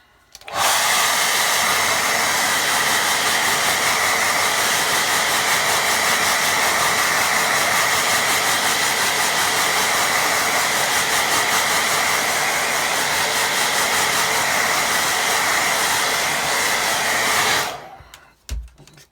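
A hair dryer blows steadily on a watercolour painting, one loud continuous hissing whoosh close by for about seventeen seconds before switching off.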